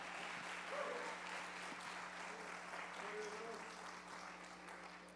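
A church congregation applauds during a sermon, a faint, steady wash of many hands clapping that continues without letup from a distance, with a low hum beneath it.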